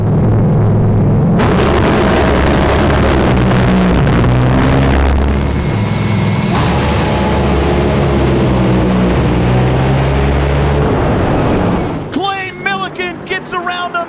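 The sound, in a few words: Top Fuel dragsters racing down the drag strip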